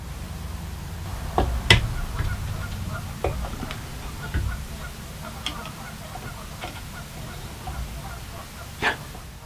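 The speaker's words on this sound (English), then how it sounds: "Hear those geese?" Geese honk intermittently from a pond out back, a few scattered calls at moderate distance over quiet outdoor ambience.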